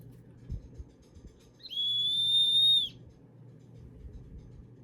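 A pet training dog whistle gives a single sustained high-pitched blast, about a second long, clearly over quiet background rumble.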